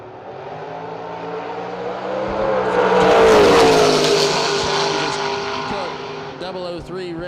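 A Corvette drag car at a drag strip launches and accelerates away, engine noise swelling to a loud roar midway with a rising pitched whine, then fading, while an announcer talks over it throughout.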